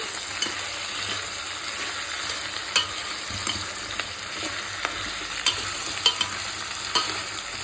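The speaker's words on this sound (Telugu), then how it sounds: "టమాటాలు వేసుకొని కొంచెం కలుపుకొని" Tomatoes stir-fry in a pan for Chennai-style sambar, a continuous sizzle broken by regular scraping knocks of a spoon against the pan, close and clear with no voices.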